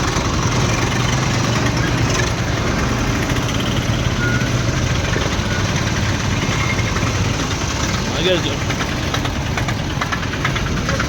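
Heavy road traffic near a fruit market in Telangana, with trucks and tractors idling and rumbling close by, a loud, continuous low engine drone and knock throughout, no voices.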